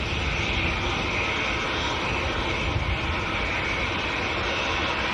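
Emirates jet airliner on its take-off roll at Manchester Airport, a loud, steady broadband engine roar holding for several seconds with no voices over it.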